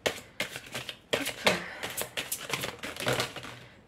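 Tarot cards shuffled and scattering, a quick run of crisp, papery flicks and slaps in uneven bursts, close and fairly loud.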